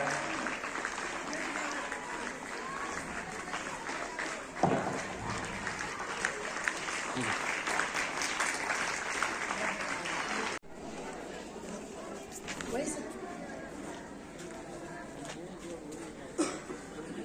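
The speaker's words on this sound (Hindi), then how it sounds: "प्लीज तालियां बजाते रहिए, हमें बड़ा अच्छा लगता है।" Audience applause at an outdoor annual school sports day, steady and continuous throughout with scattered crowd chatter mixed in and a brief dip partway through.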